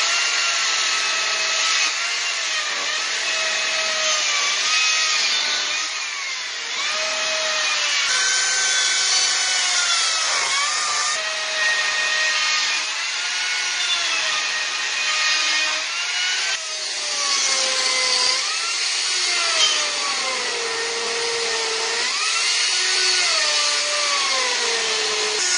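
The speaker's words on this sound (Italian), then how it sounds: "con una motosega piccola, comincio a incidere quelle che diventeranno i rami, le fronde e avanti" A small chainsaw carves wood into a Christmas tree, its high buzzing motor rising and falling steadily as the blade bites and eases off, loud and close without pause.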